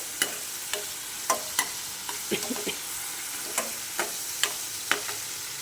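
Tadka tempering for a round gourd (tinda) curry sizzles steadily in hot oil, broken by sharp spatters and a few clinks of a spoon against the pan, with no talking.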